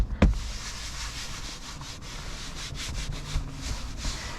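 Wiping a BMW's leather interior with a cleaning wipe gives a steady, close-up rubbing and scrubbing sound, with a sharp knock at the start and no talk.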